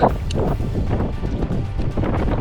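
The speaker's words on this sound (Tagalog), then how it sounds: "ang lakas na ng hangin dito tapos sobrang lamig pa" Strong wind buffets the microphone in a constant low roar, with gusty rumbling throughout and no voices.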